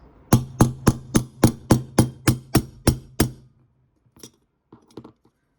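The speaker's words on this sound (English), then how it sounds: "And then with a hammer, just a couple of taps." Eleven sharp, evenly spaced hammer taps on a punch setting a fastener ring out in quick succession, followed by a few faint metallic clinks and quiet.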